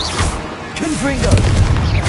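A single Confringo fire spell in Hogwarts Legacy bursts with a short, weighty boom, mixed into busy combat sounds with vocal-like creature grunts underneath.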